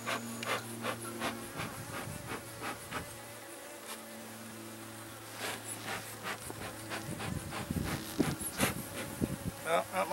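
Honeybees buzz around an opened hive during a fall honey harvest, a faint, steady insect hum with droning tones, mixed with rubbing and handling noises from the hive work.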